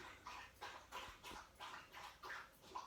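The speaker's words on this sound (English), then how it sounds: "that's the dog in there trying to gulp down a gallon of water real quick" A dog gulps down a large amount of water quickly, a steady rhythm of repeated lapping and swallowing pulses, roughly three per second, faint and somewhat distant with no talking.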